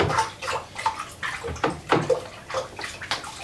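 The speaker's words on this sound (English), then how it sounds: "we're going to pour some in, stir it up, pour some in." Water being stirred in a container as sugar and yeast are mixed in for homemade vodka, steady sloshing and swirling with irregular splashy surges, close and moderately loud, no talking.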